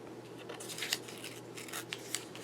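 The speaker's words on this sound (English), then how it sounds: "And I cut this strip right at the bottom." Scissors snip through a paper strip for a scrapbook page, with a few quiet, close crisp cuts spread unevenly over a faint steady background hum.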